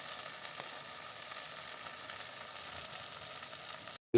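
Fish cooking gently in gravy in a pan, a steady soft sizzle and bubbling that holds even and quiet throughout, then cuts off abruptly near the end.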